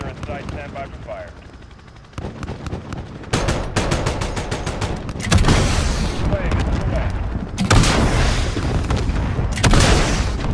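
Heavy air strike explosions pound enemy armor in Call of Duty: Modern Warfare, a string of loud, close booms and rumbling blasts mixed with gunfire that builds and repeats across the clip.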